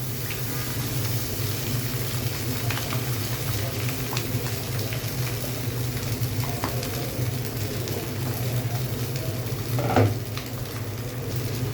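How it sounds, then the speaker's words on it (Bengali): Noodles and egg being stirred and fried together in a pan, a steady low sizzle with soft scraping throughout and one brief louder clatter near the end. "নুডলসটা আমি ভালো করে এখন পুরোটা মিশিয়ে নেব"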